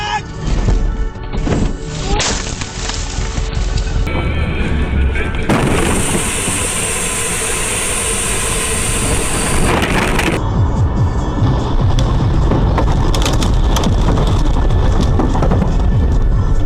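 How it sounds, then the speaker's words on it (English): A car skidding on a snowy road collides head-on with a truck and explodes: a continuous loud, harsh roar of crashing and rumbling noise runs throughout, with a hissing wash in the middle and voices shouting over the din. "The car hit the truck from front side, and due to the high speed, it caused an explosion."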